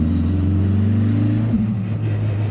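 A big-block V8 in an 1100 HP BMW drift car revs hard nearby, a loud steady drone that briefly dips and climbs again before settling into a rough idle.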